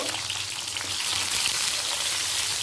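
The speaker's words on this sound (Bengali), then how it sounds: "লবণ মাখানো পটলগুলোকে সর্ষের তেলে ভেজে নেব" Salted pointed gourd (potol) frying in hot mustard oil, a dense, loud, continuous sizzle with a crackling spatter close by and no pauses.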